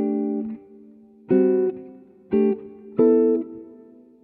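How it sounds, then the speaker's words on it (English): Electric guitar with a jazz tone through a Line 6 Helix plays a few sustained chords with pauses between, each ringing out into a smooth, gently wavering modulated plate reverb tail. "the Ganymede reverb is kind of like a plate that's modulated a little bit"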